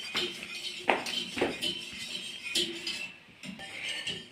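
Homemade custard stirred in a pot by a spoon, giving soft intermittent scraping and light clinks against the metal, with a few sharper taps, close by and at moderate level.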